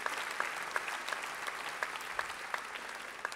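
A convention audience applauding parliamentarians at a political party's investiture event in Lille, a dense continuous clapping from a large crowd heard at a moderate distance, with a few individual claps standing out.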